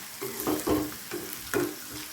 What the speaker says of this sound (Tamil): நல்லா வதக்கிக்கலாம் நல்லா அந்த வெங்காயம் நல்லா வதங்கும்